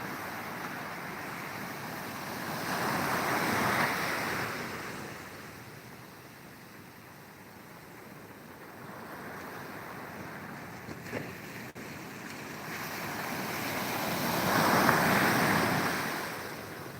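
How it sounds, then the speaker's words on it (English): Atlantic Ocean waves and surf off the coast of Ghana: broad, rushing swells rise and fall in slow surges, peaking twice, with steady wind noise buffeting the microphone throughout and no voices. "Check out the characteristic of these waves out here in this water."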